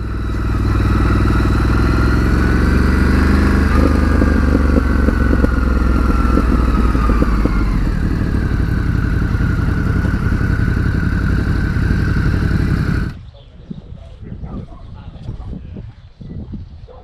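A 2019 Ducati Scrambler 1100 engine hums loud and close while riding through Tuscany, with the pitch rising and easing as it accelerates, then dropping away abruptly to quiet background.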